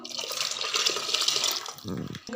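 Water runs into a cooking pot in a steady broadband stream for about two seconds, then stops, with a short low thump and a faint voice near the end.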